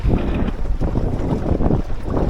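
A sailboat motoring under engine power at about five miles an hour gives off a low, continuous rumble, heavily mixed with loud wind buffeting the microphone and no voices.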